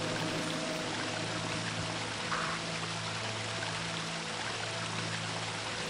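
Steady rushing pour of a blood waterfall in the video game Shadow Man, a continuous broadband wash with a low hum beneath, constant and fairly loud throughout.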